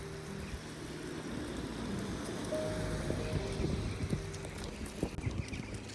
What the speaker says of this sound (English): it is so blustery